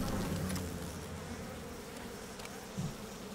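Bees buzzing in a video game, a continuous close hum with some slight wavering and no speech over it.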